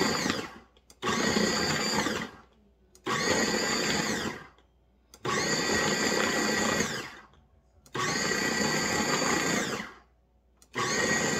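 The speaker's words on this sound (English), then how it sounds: "I'm gonna go ahead and get this pulsed, let that go for a little bit here, and get this butter mixed in with the flour" A food processor pulses butter into flour for pie crust, five loud whirring bursts of about two seconds each, separated by short pauses.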